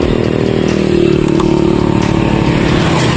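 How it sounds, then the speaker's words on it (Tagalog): A Yamaha R15 motorcycle with power cams and a flat piston, accelerating hard from 0 to 100, a loud, steady engine roar close to the listener that holds its drone through the clip, with no talk. "videohan yung 0 to 100 na kaya ng motor ko"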